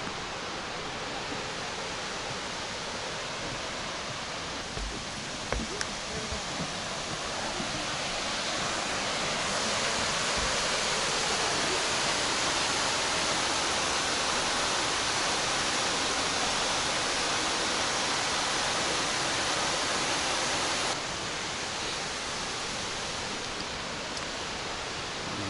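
Steady, dense rushing water roars continuously like a nearby waterfall at Clifty Falls State Park in Madison, Indiana, swelling louder in the middle before easing back slightly, with no voices.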